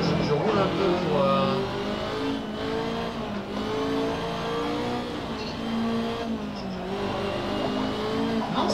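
A race car in the Assetto Corsa video game drones steadily as its engine sweeps up and down through gear changes, loud and continuous, with someone talking casually over it.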